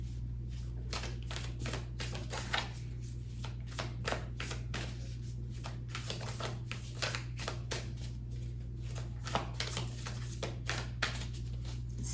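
Tarot cards being shuffled close by in rapid bursts of riffling and flicking, each burst separated by a short pause, over a constant low hum, with no talking.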